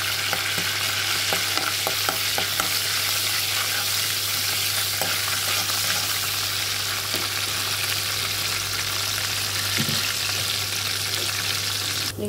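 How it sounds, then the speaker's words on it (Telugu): Mustard seeds and chana dal fry in a pan with a loud, steady sizzle, close up and without a break. Faint stirring scrapes and small popping crackles sound throughout, with no talk. "ఆవాలు, శనగపప్పు వేసేసి 2 నిమిషాలు వేపుకోవాలి."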